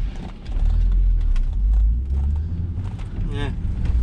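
A 2000s Volvo V70 estate on a test drive after new rear shock absorbers, steady engine and road rumble heard from inside the car, with occasional light knocks and rattles.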